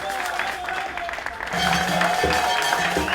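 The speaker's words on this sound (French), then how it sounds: "On applaudit très fort pour Monsieur d'action citoyenne" Audience applause at a neighbourhood community talk in Atsibe Ntsoss, a steady wash of many hands that swells louder midway and continues without pause, with a faint voice underneath.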